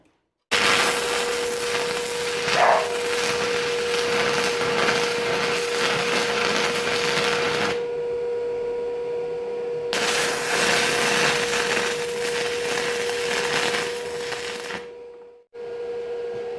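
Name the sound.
welding a handle onto a scrap Damascus steel billet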